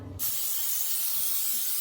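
Cooking spray hisses steadily from an aerosol can into a baking dish for a chicken casserole, one continuous close spray lasting well over a second after a brief low bump.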